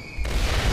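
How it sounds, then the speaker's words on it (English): A single loud, close explosion from a dropped bomb in the Black Mesa video game bursts in abruptly after a quiet instant and sustains as a heavy boom. "Shit, bombs dropping."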